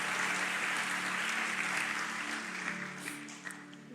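A church congregation at GBI Lippo Cikarang claps enthusiastically, a broad wash of steady applause that holds strongly before tapering slightly, with faint voices mixed in.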